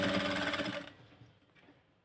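A sewing machine stitches the hip seam of a Punjabi dress in one short, close, steady run that stops abruptly, leaving faint handling noise afterward.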